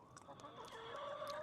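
Backyard chickens in a small coastal urban homestead garden clucking softly, with a few short calls and a drawn-out call near the end, faint and fairly distant.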